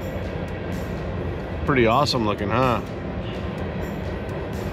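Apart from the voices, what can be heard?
train passing by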